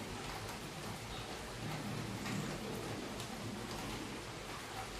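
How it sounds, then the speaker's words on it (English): Steady rain falls as a soft, unbroken hiss, faint and distant, with no other sounds over it. "You hear that rain?"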